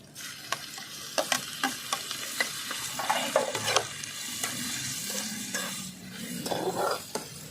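Fish oil fries with lightly browned onions in a pan, a continuous sizzle under rhythmic scraping and stirring, with a spatula clinking against the metal again and again, close by and without speech.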